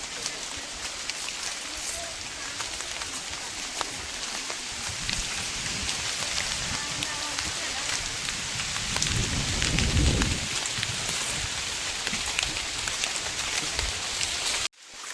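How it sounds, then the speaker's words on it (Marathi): Heavy evening rain falls over farmland in the Konkan region, a dense, continuous patter with a low rumble of thunder building midway, then fading. "हे बघा पाऊस भरपूर आला आहे"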